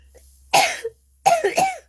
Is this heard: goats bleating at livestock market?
no